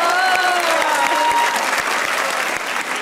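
A studio audience at a comedy talk show claps in a loud, dense, steady burst, with a few voices and cheers blended into the applause.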